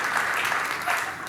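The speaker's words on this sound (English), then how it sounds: "Give her a big round of applause as she makes her way up." Audience at a magic show applauding a volunteer as she comes up, a dense, steady patter of clapping from a crowd throughout a brief stretch.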